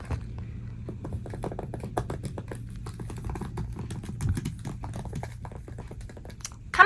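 Light typing on a MacBook Pro keyboard, scattered quiet key taps in an uneven rhythm close by, faint over a low hum with a louder knock at the end.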